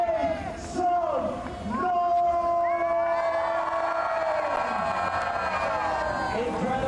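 Crowd at the ADNOC Abu Dhabi Marathon 2023 roars and whoops in response to an announcer, a swelling wave of cheering and shouts outdoors, with the amplified voice of the announcer over it at the start.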